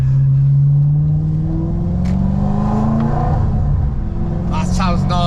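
Audi RS4 engine revving with a loud exhaust that has had its valves removed, a rising rev climbing in pitch then settling into a throaty rumble, with voices talking over it near the end.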